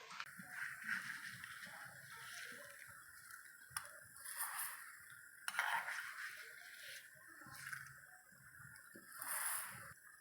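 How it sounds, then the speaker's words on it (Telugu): Roasted star rice tipped into milk in a pot and stirred for payasam, faint scraping and clinking of a spoon against the pot with soft splashy stirring, quiet and close. "ఇప్పుడు ఇదంతా మనమేమో పక్కనున్న పాలలోకి వేసేసుకోవాలి."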